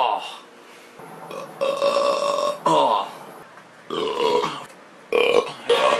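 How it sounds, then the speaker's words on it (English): A person burps repeatedly and loudly close to the microphone, with about four drawn-out belches separated by short pauses. "I can't stop burping."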